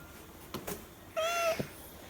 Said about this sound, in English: Yeah, a camera cat.